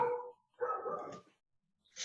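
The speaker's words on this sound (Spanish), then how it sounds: "tengo vecinos acá que tienen perros y hay ratos en que estos perritos comienzan a hacer bulla" Neighbours' dogs bark in two short bursts at close to moderate range, with a brief sharper yip near the end and quiet gaps between.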